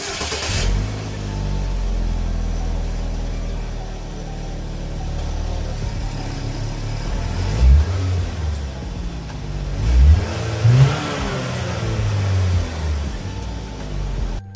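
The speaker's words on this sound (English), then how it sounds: "my exhaust sounds like garbage" A Chevrolet Equinox engine idles and then revs in several loud bursts through a faulty, rough exhaust, the low rumbling rising and falling with each throttle blip.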